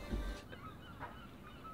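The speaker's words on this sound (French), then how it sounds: "on a les mouettes" Seagulls call faintly in the distance: a few short, harsh cries over a quiet background, with no speech.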